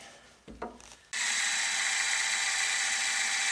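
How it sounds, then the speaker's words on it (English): After a couple of soft knocks, a power drill starts up and runs at a steady high whine, boring holes through thin van sheet metal on a RAM Promaster 1500, close by. "I think I can drill these holes without taking the bracket back off"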